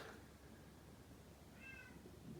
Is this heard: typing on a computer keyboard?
no